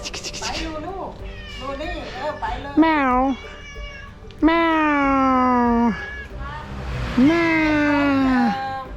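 A cat meows close by, first a few short mews, then several long, drawn-out cries spaced a second or two apart.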